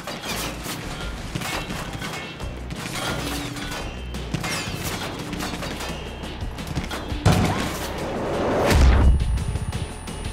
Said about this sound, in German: Schießen mit Raketen, oder?